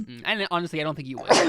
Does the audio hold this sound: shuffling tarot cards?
no